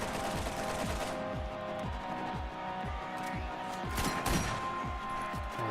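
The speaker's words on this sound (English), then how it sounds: "Sledge's shotgun." Rapid repeated shotgun blasts from Sledge's shotgun in the video game Borderlands, Mad Moxxi's Underdome arena, firing in a steady rhythm of loud booming shots over dense battle noise.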